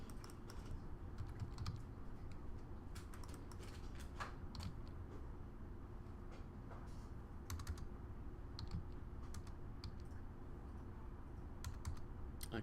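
Code is typed on a computer keyboard in irregular bursts of faint key clicks over a steady low room hum, with some keys and the board creaking now and then.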